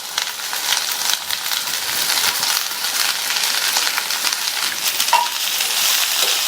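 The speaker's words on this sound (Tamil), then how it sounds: "அவரைக்காய் கேரட் ரெண்டையுமே ஒரே 1 நிமிஷத்துக்கு மட்டும் நல்லா வதக்கி விட்டுக்கங்க" Broad beans and carrot sautéing in a pan for a Tamil poriyal side dish, a steady close hiss and crackle of frying with faint stirring scrapes, continuous and fairly loud with no talking.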